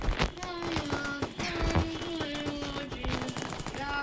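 Gunfire in a Roblox shooter video game, rapid bursts of machine-gun-like shots crackling in quick succession over a busy game soundtrack with a steady tonal line.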